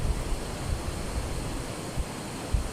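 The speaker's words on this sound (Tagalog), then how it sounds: "Maingay ang agos ng tubig dito, guys, dahil sa malalaking bato." Water in a river rushes and churns over large rocks, making a constant broad roar close by, with faint low thumps and no voices.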